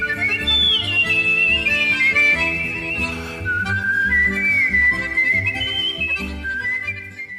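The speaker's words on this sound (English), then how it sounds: "the first championship in Ireland on the wolf whistle" At a wolf-whistling championship in Ireland, a contestant whistles clearly and at length, the piercing tone sliding and holding over about seven seconds above a low background hum.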